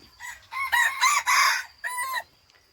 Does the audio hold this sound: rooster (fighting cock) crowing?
yes